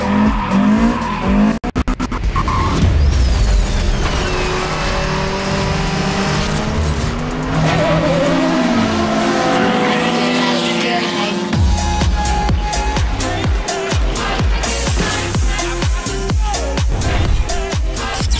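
A Toyota Corolla GTS AE86 revs loudly while its tires squeal and skid in long sustained screeches, with engine pitch rising and falling, close and intense throughout.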